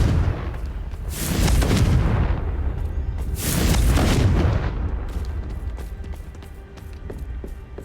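Two booming Confringo spell explosions in Hogwarts Legacy, each a loud deep blast with a rumbling tail, followed by scattered small crackles.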